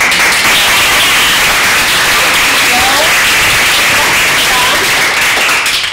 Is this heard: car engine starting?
no